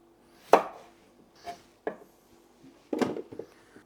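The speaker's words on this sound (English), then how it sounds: "I'll just cut these into some chunks so I can just boil them and then mash them." Peeled potatoes being cut into chunks with a knife on a board: four or five sharp, close chopping thuds spaced irregularly, with a quick double chop near the end and quiet pauses between, no talking.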